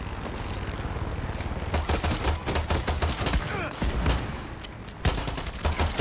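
Rapid video game gunfire crackling in dense bursts and volleys, loud and close, with a brief lull partway through and faint voices under the shots.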